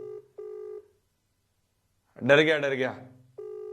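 A telephone call rings out with repeated steady ringback tone pulses, broken by someone speaking loudly in the middle before the tone resumes.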